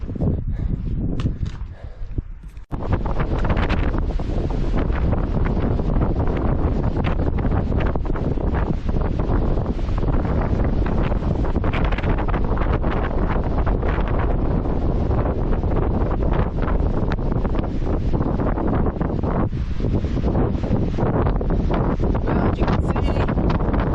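Strong wind buffets the microphone on the summit of Mount Le Conte, a loud continuous roar with gusty rustling that barely lets up, after a short calmer moment at the start.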